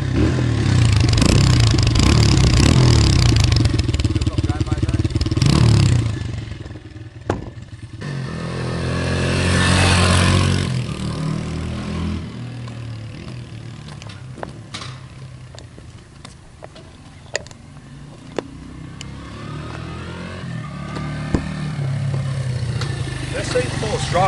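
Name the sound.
1997 Honda XR100 motorcycle engine running and revving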